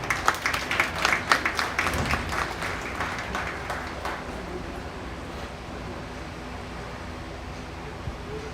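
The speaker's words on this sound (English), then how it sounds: "let's give everybody a round of applause one more time for all their hard work" Applause from the crowd at an award presentation during the 2021 La Salle County Junior Livestock Show. Sharp, lively clapping fills the first four seconds, then fades into a low hum of room noise.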